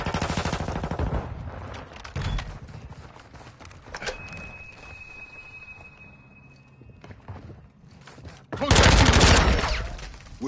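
Call of Duty team deathmatch gunfire: rapid automatic bursts and shots crackling in the first seconds, then quieter movement and a high tone, before a loud dense burst of fire near the end.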